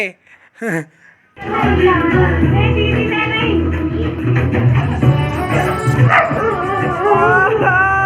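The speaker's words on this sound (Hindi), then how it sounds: "ये बीच में हमारा डॉगी बोल पड़ा था" A pet dog barks, yips and whines in a lively run of calls close by, with people talking and laughing around it.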